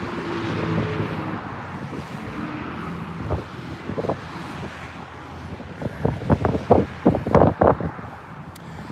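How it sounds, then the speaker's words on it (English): Wind gusts buffet a microphone on an outdoor walk through Brooklyn, a loud rushing roar that swells and drops, with sharper bursts of wind noise toward the end. "So wind picks up."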